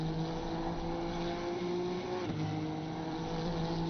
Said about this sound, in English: Does sound pretty good, that engine as well.